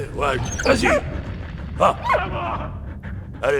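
A dog in the Valiant Hearts video game lets out several short barks and yips in uneven bursts, loud and close, spaced across the moment with brief pauses between them.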